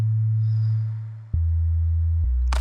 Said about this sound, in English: I just went to the basic sine, and I use this for a lot of my sub basses, and so this is just the sound it gives